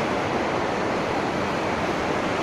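Fast-flowing, polluted Rispana river water in Dehradun during the rainy season, a steady loud broadband rush with no breaks and no voices.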